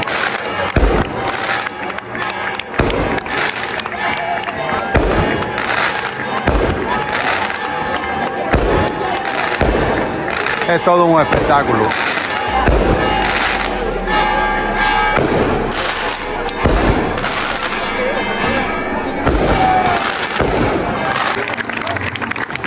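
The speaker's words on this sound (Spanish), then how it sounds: "Aquí tenemos los fuegos artificiales." Fireworks crack and thump overhead at the San Roque romería procession in Firgas, a dense run of bangs and pops over a lively outdoor crowd, with bells sounding and a commentator talking throughout.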